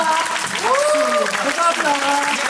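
An audience applauds steadily at a musical's curtain call while someone speaks over the clapping.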